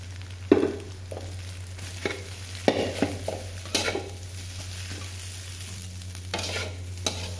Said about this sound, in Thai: พัดไปเรื่อยๆค่ะ